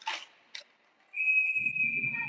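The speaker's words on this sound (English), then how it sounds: "And whistled." A referee's whistle at an ice hockey scrimmage sounds one sustained, bright tone lasting about a second, after brief arena noise, with low crowd rumble building beneath it.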